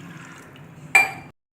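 Water poured from a tumbler into rice flour for savory kozhukattai dough, a short bright splash that starts abruptly after a quiet stretch and stops cleanly, with no talk.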